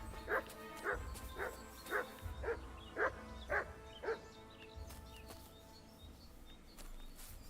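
A dog barks in a quick series of about eight sharp, evenly spaced barks at moderate distance, then falls quiet to faint background ambience with a little bird chirping.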